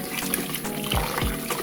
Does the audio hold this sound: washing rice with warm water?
yes